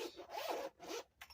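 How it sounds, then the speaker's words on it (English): A zipper being drawn open on a small leather or faux leather case, in a few quick rasping pulls with brief pauses between them, close up and fairly quiet. "Let's unzip it."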